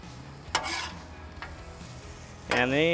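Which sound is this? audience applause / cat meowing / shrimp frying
shrimp frying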